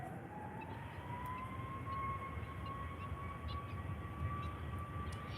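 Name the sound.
Lufthansa airliner landing at Faro Airport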